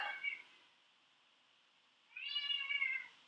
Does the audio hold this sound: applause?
no